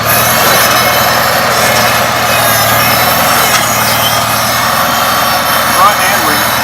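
Hydraulics on a 1975 International Farmall Cub tractor, a loud continuous engine drone with a steady low hum throughout, close by, with talk over it.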